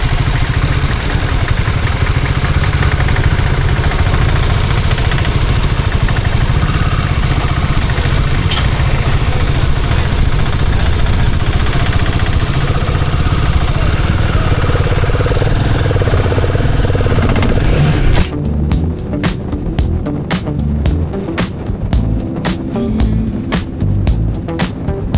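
Steady, loud engine drone of a motorcycle on a long road trip toward Ladakh, continuous for most of the ride, then shifting to a choppier, buffeting texture near the end, with no talking.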